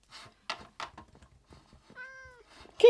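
A cat meowing in a video game, one clear drawn-out meow in the middle of a string of short, quiet clicks and taps, with a sharper sound at the very end.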